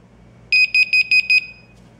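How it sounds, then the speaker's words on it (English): A bright electronic alarm tone from a home security app beeps six times in a quick, even rhythm, clear and fairly loud over a quiet background. "So that will be the alarm sound"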